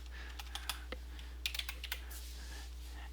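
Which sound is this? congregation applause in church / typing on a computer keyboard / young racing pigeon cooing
typing on a computer keyboard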